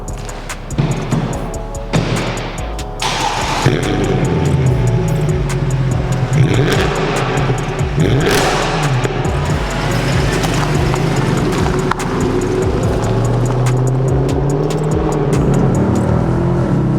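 An old classic Range Rover in Wales, its engine running as it drives, a steady continuous drone with shifting harmonic tones, close and loud throughout, with no talk over it.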